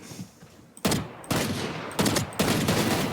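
Rapid automatic gunfire in a Valorant deathmatch, with several loud bursts in quick succession after a quieter start, no talk.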